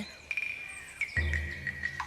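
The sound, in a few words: birds at Père Lachaise cemetery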